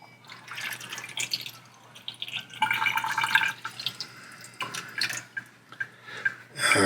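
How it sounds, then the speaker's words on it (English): Film developer working solution is poured into a developing tank, a splashing, gurgling liquid stream that comes in uneven surges and is heard close up, with no talk. "I'm now ready to pour in my working solution of developer."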